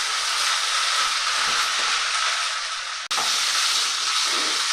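Italian beef ragu sizzles and hisses steadily in a pan while being stirred, a loud, continuous frying wash with a brief cut about three seconds in.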